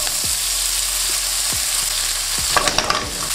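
Beef pancetta fries in olive oil in a hot pan, a loud, steady crackling sizzle close up, with a few clicks from the spoon or pan, then a brief burst of stirring.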